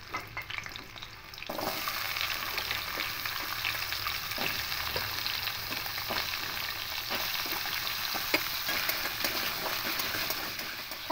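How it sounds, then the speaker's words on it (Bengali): Potato pieces fry in oil in a pan with a steady, close hiss that jumps up after a quieter opening second, broken by occasional scraping and stirring clicks. "তেল দিয়ে আলুগুলো ভেজে নেব।"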